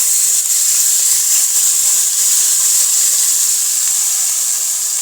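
Chickpeas dropped into hot oil tempering in a pan, giving a loud, continuous, even sizzling hiss with no pauses.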